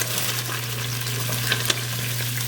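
Diced onion and parsnip sizzle and hiss in a pan after a roast has been browned and taken out, with a steady crackling fry and a low background hum.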